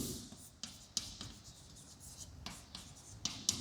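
A pen writes on paper during a physics lesson with quiet, close scratching strokes and taps in an irregular rhythm and no one speaking.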